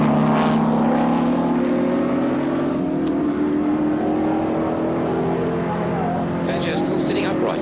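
Racing cars lap the Australian Grand Prix circuit in a historic event, a steady loud engine drone holding throughout while the pitch rises slowly, with a commentator talking over it.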